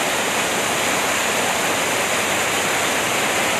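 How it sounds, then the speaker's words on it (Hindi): Waterfall pouring beside a hillside path on Bailadila hill, a steady, loud broadband rush of falling water that fills the whole stretch without pause and with no voices over it. "देखिए झरना बह रहा है अगल बगल।"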